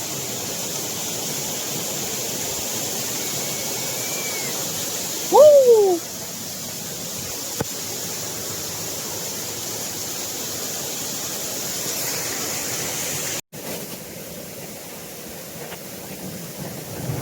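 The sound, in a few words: Waghdondi (Bahubali) waterfall at the foot of Kalsubai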